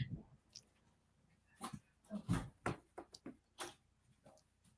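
A distressed dog whines and whimpers in short, uneven bursts, wanting to be let out, with several sharper cries in the second half over a quiet room.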